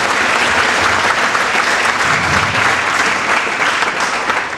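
An audience at a New Year's greetings event breaks into sustained, dense applause, loud and close, a steady wash of clapping lasting several seconds.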